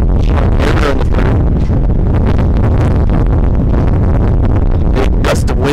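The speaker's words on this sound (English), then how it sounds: "Big gust of wind comes through." A big gust of wind sweeps across a high school baseball field during an evening game, a loud, constant roaring buffet on the microphone lasting several seconds with rustling bursts, no voices.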